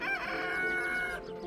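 Chickens clucking outdoors on grass at a farm, a short, close, fairly loud burst of calls lasting just over a second.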